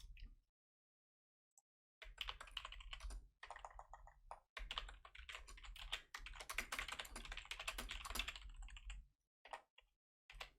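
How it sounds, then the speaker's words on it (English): Someone types on a computer keyboard at close range, with dense bursts of clicking keystrokes broken by short pauses and quiet gaps. "I'm typing this"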